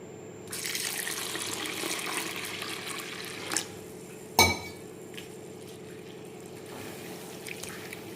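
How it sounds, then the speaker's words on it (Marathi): Red lentils (masoor dal) being rinsed in water in a kitchen: a steady stream of running, splashing water with a couple of sharp clinks of a vessel partway through, fairly close and moderately loud. "हिला एकदम चांगली दोन पाण्याने आपण धुवून घेणार आहे"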